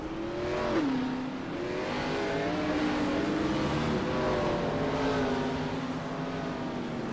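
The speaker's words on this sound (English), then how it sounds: "Pace car leads them out." Several race cars at Bristol drone along together behind a pace car at moderate speed, engines humming and shifting pitch in a steady low rumble, no talk.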